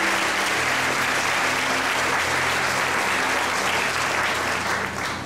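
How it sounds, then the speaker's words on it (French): A church congregation claps loudly and steadily, a dense wash of applause that holds throughout and eases slightly at the very end. "Et ma part de ballon bel applaudissement."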